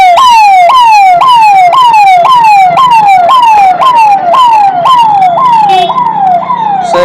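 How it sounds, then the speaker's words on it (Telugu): A very loud emergency vehicle siren cycles continuously near a railway station, about a dozen quick rising sweeps in a steady rhythm, with faint traffic rumble underneath. "వీళ్ళు సైరన్ వేసుకొని తిరుగుతున్నారు"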